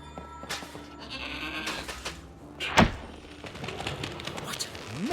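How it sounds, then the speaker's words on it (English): A goat bleats in a snowy winter setting in the game Trine 4, one sharp wavering cry rising out of layered game music and ambient effects, followed by softer bleats near the end. "What an amazing goat!"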